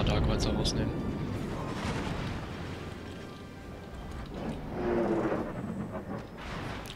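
Heavy booming naval gunfire in World of Warships, with rumbling blasts and crackling impacts, dense and continuous, with a voice talking faintly underneath.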